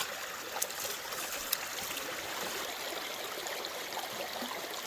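River water rushes through a gold prospecting sluice in a steady, close broadband wash, with two brief clicks early on and no talking.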